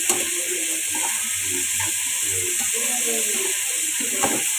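Greens fry in a pan with a constant bright hiss and sizzle, while faint murmuring voices and light kitchen clatter sit low underneath.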